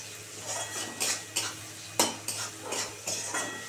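Grated garlic and ginger with onion frying in a pan, stirred with a utensil that scrapes and clinks in several distinct strokes over a steady sizzle, close by, with no voices.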